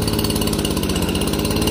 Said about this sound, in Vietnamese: Rồi bây giờ mình sẽ giật máy nổ đi